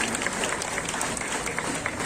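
Audience applause at a police line flag-hoisting ceremony in Bareilly, a steady dense wash of many hands clapping close by throughout, with faint voices mixed in.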